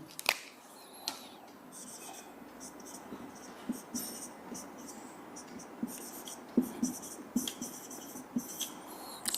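Chalk scratching and tapping on a board during a physics lecture on vector dot products, with irregular strokes and taps over a low room hum.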